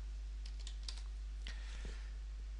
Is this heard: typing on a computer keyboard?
yes